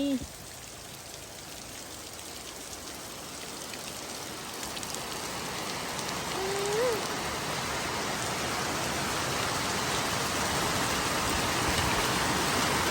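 Heavy storm rain pours steadily outside a shop as a storm hits and water floods the street, a dense continuous hiss that thickens over time, with a brief voice near the start.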